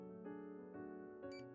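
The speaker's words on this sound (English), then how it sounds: "I hear the sound of someone entering the door code" A short series of electronic keypad beeps as a door code is entered in the game Goddess of Victory, three or four tonal presses in quick succession, clear and close with no talking.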